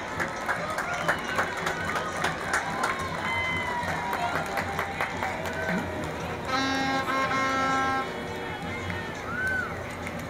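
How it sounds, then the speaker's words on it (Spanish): Spectators at a Fiestas Patrias street parade clap and cheer in a busy, textured roar, with whistles and shouts rising above it and a loudspeaker voice talking over the crowd. "Un fuerte aplauso para Veracruz."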